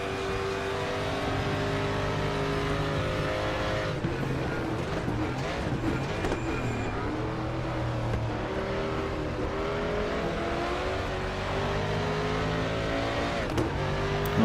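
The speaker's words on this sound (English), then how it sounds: "the Mustang sounds wonderful" 1992 Ford Mustang DTM race car engine in the RaceRoom sim at Chang (Buriram), a continuous loud engine note rising and falling in pitch through gear changes for the whole run.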